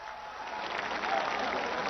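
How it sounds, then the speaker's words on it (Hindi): An audience at a spiritual temple welcoming India's Prime Minister claps in a soft, even patter that swells slightly as it continues, with no voices over it. "आप सब तालियों के माध्यम से अपने हृदय के उद्गार मंच तक पहुंचाएं।"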